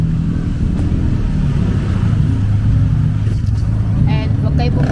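Thai street traffic of cars and motorcycles rumbles continuously nearby, with engines revving and passing, while people talk over it.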